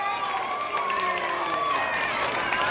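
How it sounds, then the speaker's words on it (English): An audience at a Santa pajama party claps and cheers for Mrs. Claus in steady applause, with higher excited voices mixed in and a sustained clatter of hands throughout. "Everybody, give a round of applause for Mrs."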